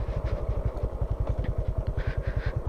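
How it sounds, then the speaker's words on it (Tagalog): A Honda XRM125 motorcycle being ridden slowly over a rough road, its engine giving a rapid, even chugging pulse that is close and fairly loud, with faint clatter on top. "sa lakas naman ng arangkada ng XRM, kahit na dahan-dahan ka lang, ramdam mo naman yung kanyang lakas ng hatak"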